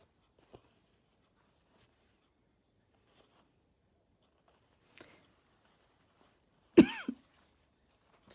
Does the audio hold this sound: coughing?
yes